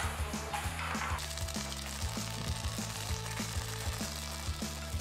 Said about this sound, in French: La crêpe coréenne est en train de cuire